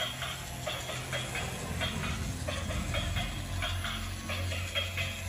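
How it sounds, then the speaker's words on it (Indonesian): A toy electric train runs along its track with a steady, rhythmic clicking over a continuous low motor hum. It is moderately loud and close, with no voices. "Wow, keretanya sudah kembali ke stasiun"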